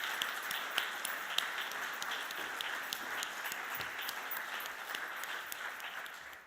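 An audience at a health system quality and innovation awards ceremony applauds the nominees, a thin, steady patter of clapping heard from a distance that fades slightly toward the end.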